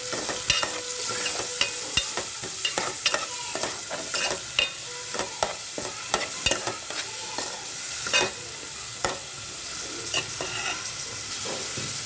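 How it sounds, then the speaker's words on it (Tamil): Curry leaves and chopped onion are stirred in a hot pan for a South Indian fish curry, a steady bed of sizzling oil broken by frequent scraping spoon clicks and strokes throughout, close and moderately loud with no talk. "கருவேப்பிலை எல்லாத்தையும் சேர்த்து நல்லா மிக்ஸ் பண்ணி வச்சுக்கலாம்"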